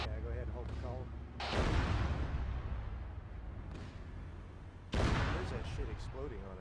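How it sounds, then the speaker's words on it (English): Indirect fire lands around a vehicle in a military video game, two heavy booming impacts rolling out loudly a few seconds apart over steady background rumble and faint chatter. "Hey, we're getting fire around us from somewhere."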